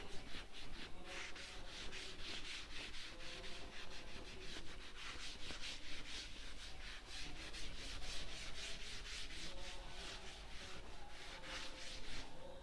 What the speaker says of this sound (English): Now, for the next question, I have to rub the board.